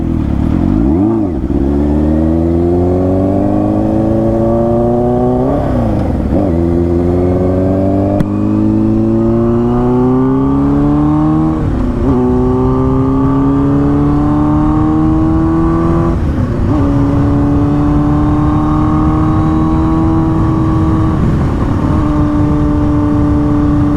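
A motorcycle crossing a bridge, its engine loud and close, pitch climbing through repeated gear shifts with brief dips between, steady wind rush underneath and no talking.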